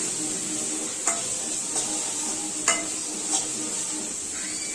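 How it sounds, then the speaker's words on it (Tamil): Tomato sautéing in a pan for an egg stir-fry, a constant close sizzle with a handful of spaced utensil taps against the pan, and nobody speaking. "தக்காளி போட்டு நல்லா வதக்கிக்கலாம்"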